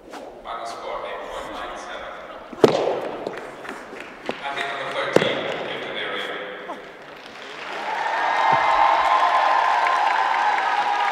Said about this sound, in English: Hear the crowd cheering again for Russia